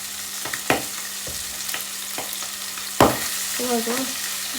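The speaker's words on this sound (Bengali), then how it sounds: "তেলের ভিতরে মাছ ঠাস ঠাস করে ফুটে উঠতেছে" Fish spatters and pops in hot oil in a kadai with kalonji and chopped garlic, a steady broad sizzle broken by several sharp loud pops and cracks, one especially strong burst midway, close and without talk.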